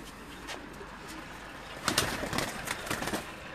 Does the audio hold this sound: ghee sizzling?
no